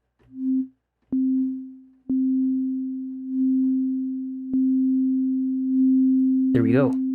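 Dexed FM synthesizer notes with a long release envelope, heard as a steady pure sine-like tone repeatedly retriggered with sharp clicks and sustained without fading, ending in a brief wobbling burst, clean and alone.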